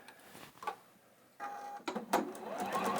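A Juki sewing machine stitches a seam in short bursts: a faint start, then a steadier mechanical run of rapid ticking stitches, close and moderately quiet.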